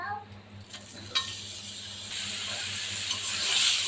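Water lily stems drop into a hot frying pan of fried spices with salt and turmeric, and a soft hiss builds into a loud, steady sizzle over a few seconds.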